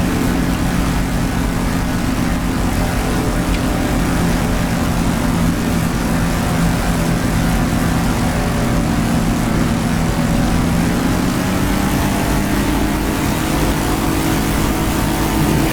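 Propeller engine of an F4U-1D Corsair in the DCS flight simulator, a steady loud droning roar running throughout with a slight rise in pitch as power is added.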